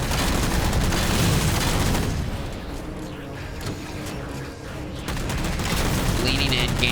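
A Mantis mech in Halo 4 launches a volley of missiles, giving loud rapid bursts and booms that thin out midway before another dense barrage, with a voice faintly underneath.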